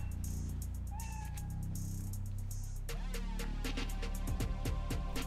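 Spider-Cat in Spider-Man: Miles Morales gives a few short meows over a steady game background, followed by denser clicks and bursts of in-game sound.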